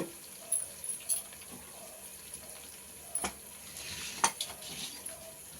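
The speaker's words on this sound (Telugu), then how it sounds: "కలుపుకున్న తర్వాత సాంబార్ అన్నం ఈ తాలింపులో వేసేసుకుందాం" Cooked sambar rice stirred into a hot tempering in a pan, with scattered scraping clinks and soft sizzling, fairly quiet, with no talking.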